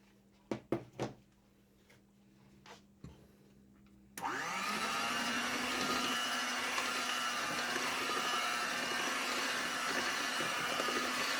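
A few knocks and clatters precede an electric mixer switching on and whirring steadily and loudly, blending apple pie filling cake batter in a kitchen.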